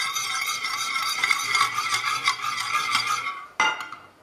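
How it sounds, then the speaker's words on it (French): Eggs being whisked in a bowl for carbonara, a continuous close scraping, swishing rhythm of the whisk, ending with a sharp knock. "Fouettez les œufs."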